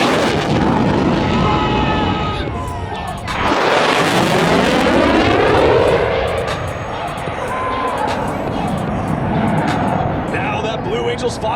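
A Blue Angels tactical jet roars past at high speed at an airshow, very loud, its pitch sweeping downward as it passes, while an announcer talks over the PA.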